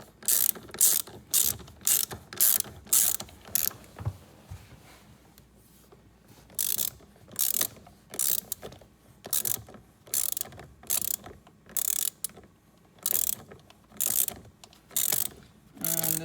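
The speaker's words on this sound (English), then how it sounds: "Just go ahead and tighten it with the ratchet" A ratchet tightens a 10mm Allen head bolt while fitting the turn signal / multifunction switch on a 2015 Jeep Grand Cherokee. Close, crisp bursts of rapid clicking come stroke after stroke in a steady rhythm, with no talking.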